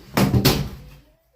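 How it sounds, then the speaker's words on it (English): A slide lock on a quail brooder door is worked open, giving two quick close metallic scrapes and knocks in succession before the sound drops away to quiet. "those doors have a slide lock. So you just slide it unlock"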